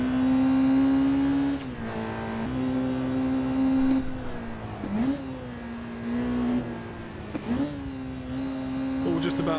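A car engine revs high on a track lap, its pitch rising and dropping sharply at each gear shift as it is held in the upper rev range, steady and loud throughout.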